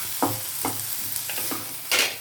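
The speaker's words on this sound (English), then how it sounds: "Now we'll fry this. Tomato should get slightly cooked." Tomato frying in a pan for spicy garlic dosa, with a few stirring scrapes and bursts of sizzle at irregular intervals, close and moderately loud with no talk.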